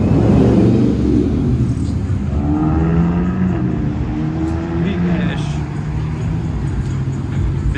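A car pulls away loudly at a late-night car meet, its engine roaring and rumbling close by with rising revs, under shouting and chatter from the crowd.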